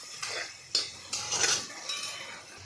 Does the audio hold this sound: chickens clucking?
no